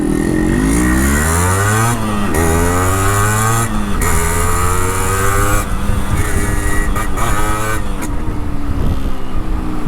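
Yamaha RX100 two-stroke motorcycle with a new exhaust and its dB killer changed, revving loudly up close, its pitch climbing and dropping through repeated throttle blips with a crisp, raspy note.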